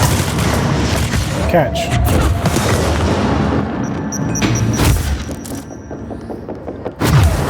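Heavy booms and blasts from grenade explosions in the video game Control, dense and loud throughout with a sharp burst near the end, mixed with talk.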